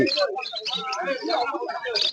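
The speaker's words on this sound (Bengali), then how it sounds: "প্রচুর কোয়ান্টিটিতে বদ্রি পাখি আছে এখানে" Many budgerigars chatter and chirp in a dense, continuous warble, close by, at a bird market in Uluberia, with voices talking faintly among them.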